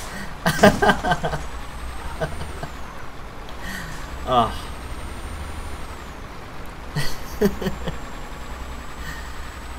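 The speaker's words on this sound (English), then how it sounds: "okay, I have to hit the brakes." Air brakes on a truck in Euro Truck Simulator 2 give several sharp hissing bursts among steady engine and road drone, with a person talking and laughing over the game audio.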